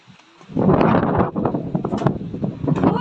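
Strong cold wind buffets the microphone outdoors, a loud, steady roar that rises after a brief quiet start and holds with gusting swells throughout.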